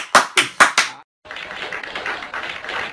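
A few sharp hand claps in quick succession, then a short silence followed by a burst of denser, lively applause-like clapping, close and fairly loud.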